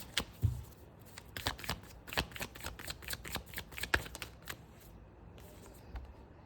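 Tarot cards riffle and flick in a quick run of crisp, close shuffling snaps, dense at first and thinning toward the end, with no talk over them.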